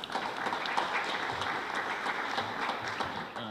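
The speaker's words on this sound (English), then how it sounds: "let's give him a big round of applause" A round of applause for a state representative at a Dorchester winter farmers market celebration, a steady, even wash of many hands clapping throughout, with no break.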